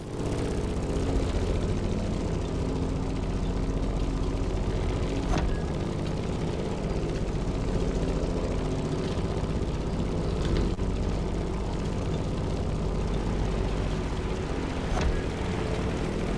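A propeller airplane in The Crew Motorfest video game drones steadily throughout, a continuous engine rumble with a constant buzzing tone and no talking.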